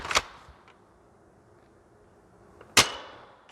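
Two sharp snapping shots from an Adventure Force Nexus Pro toy blaster, one at the start and one near the end, each a quick crack with a short clattering tail, separated by quiet.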